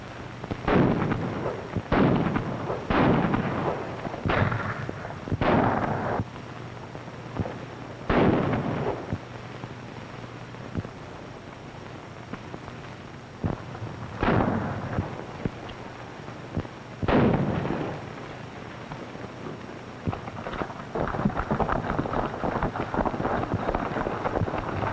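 Gunshots from a 1935 drama film ring out in an irregular series of sharp, loud blasts with reverberant tails, separated by pauses, and a steady background hiss under them.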